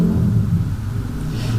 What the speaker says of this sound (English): excuse the motorbike